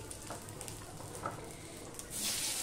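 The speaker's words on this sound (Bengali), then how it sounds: "এই বেগুনগুলো এবার আমি ভেজে নেব।" Long, lengthwise-cut eggplant slices with no salt or turmeric fry in hot oil, a soft steady sizzle with faint stirring clicks that swells into a louder, brighter hiss near the end.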